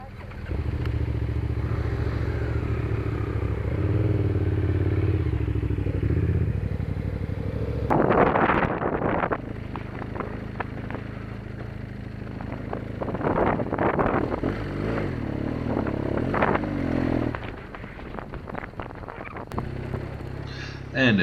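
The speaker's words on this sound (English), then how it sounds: "This was a great spot to park and record the sound of that KTM." A KTM motorcycle engine rumbles steadily at a distance for several seconds, then passes nearer with rising and falling revs under gusty wind noise outdoors at Clarens.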